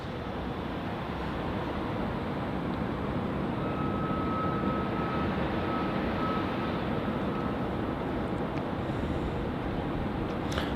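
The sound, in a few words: Qantas Boeing 737-800 jet departing Melbourne Airport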